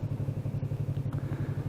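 A Honda or Yamaha sport motorcycle engine idles steadily at about 1,500 rpm with an even, pulsing throb, close by and moderately quiet.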